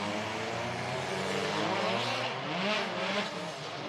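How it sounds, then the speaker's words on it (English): WTCC touring cars in Marrakech drive slowly to the starting grid, a dense blend of engine drone and rumble holding steady and fairly loud throughout, with no voices over it. "Cars coming to the grid for the first time in a long while, not led by the safety car"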